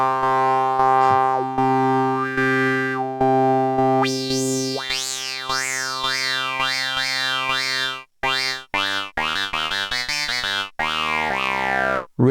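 Yamaha CS-15 analog synthesizer playing sustained tones, then resonant band-pass sweeps that rise and fall, ending in a run of short, punchy staccato notes; loud and clean with no voices.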